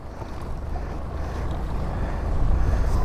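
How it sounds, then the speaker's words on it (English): Steady wind on Last Mountain Lake roaring against the microphone, low and rumbling, with water lapping in the background and gusts building toward the end. "It's getting windy, like windy."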